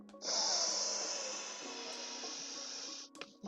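A single deep breath drawn in and let out slowly, a long airy hiss that is close and steady, fading near the end with a faint click.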